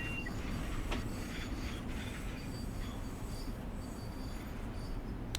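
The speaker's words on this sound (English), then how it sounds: "There's another train, that's something." Commuter train on the Long Island Rail Road rolling past in Train Sim World 5, a steady broadband rumble with faint wheel clatter and brief high squeals, continuous and fairly near throughout.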